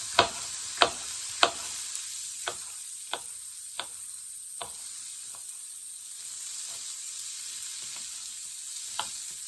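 Carrots and red peppers frying with tofu in a pan, a faint continuous sizzle under a series of sharp clicks and taps, louder early and thinning out later.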